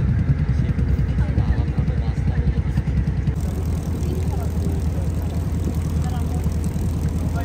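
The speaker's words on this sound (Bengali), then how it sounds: "নদীপথে ইঞ্জিনের শব্দ আর স্রোতের ঢেউ মিলেমিশে তৈরি করেছে এক নতুন সুরেলা মেলবন্ধন" A boat engine on a river in the Sundarbans drones loudly and steadily the whole time, with a rough, throbbing pulse close by and faint water noise underneath.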